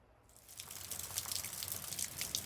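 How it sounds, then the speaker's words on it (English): Heavy pouring rain that came on suddenly during an August harvest, a hissing wash of dense drops that swells from faint to a steady, moderately loud rush. "waiting for this pouring rain that came out of nowhere to end"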